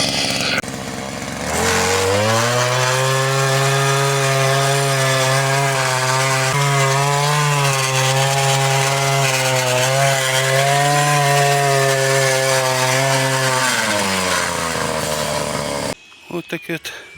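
A homemade mini motor cultivator, fitted with a frame for a planting foot, runs in a test with a loud, steady engine drone that wavers slightly in pitch for about fourteen seconds, then winds down and cuts off near the end.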